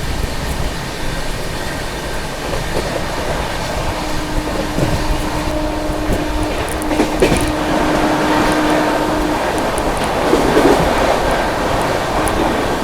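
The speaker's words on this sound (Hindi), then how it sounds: "चलिए अभी क्रॉसिंग दिखाते हैं आप लोगों को धुले CSMT एक्सप्रेस का" Dhule CSMT Express train passing at a crossing in Mumbai, a loud continuous rumble of wheels and coaches with rattling clatter throughout, close by and unbroken for the whole stretch.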